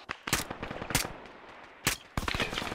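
A machine gun lays down suppressing fire in the military video game Arma 3, with loud, irregular bursts and single cracks echoing at close to mid range amid rolling reverberation.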